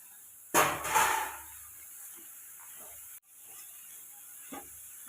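Finely chopped eggplant tipped into frying onion masala in a pan gives a sudden loud hiss and sizzle that fades over a second or so, followed by quieter sizzling and a small clatter near the end.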